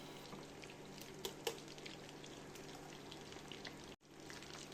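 Breaded fish fingers fry in a pan with a continuous crackling sizzle, scattered sharper pops near the start and a brief cut in the sound toward the end, with no talking.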